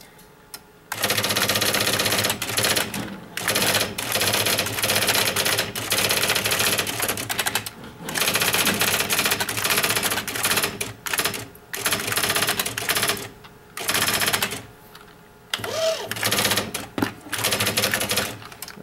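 A typewriter is being typed on in bursts of rapid, loud clacking keystrokes with brief pauses between runs, close up.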